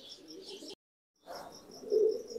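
A pair of young black Lakka pigeons gives soft chirps and murmuring coos nearby, broken by a short silence before the calls resume and swell slightly.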